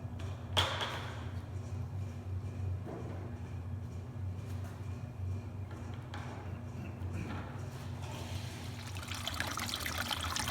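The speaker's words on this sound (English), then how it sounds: "I always pour it through this little simple kitchen strainer" Melted beeswax pours through a small kitchen strainer on a commercial beekeeping farm, a faint, steady trickle over a low background hum, with a soft knock near the start.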